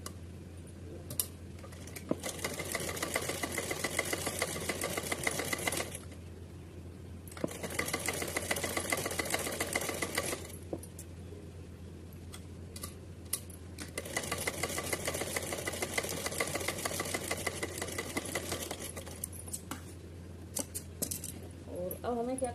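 A sewing machine stitches gota lace onto a cap in several whirring runs separated by pauses, with a steady low hum and small clicks throughout.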